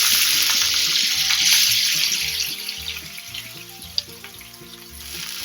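A Khandeshi thecha of fresh pigeon peas fries in hot oil with cumin and curry leaves, giving a steady, loud sizzle close by. The crackle eases a little partway through, with a light tonal musical backing underneath.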